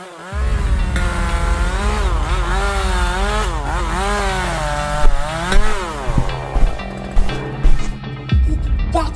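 A chainsaw roars loudly and without a break, its pitch swelling and dipping in repeated surges, then breaking into sharper revving bursts in the final seconds.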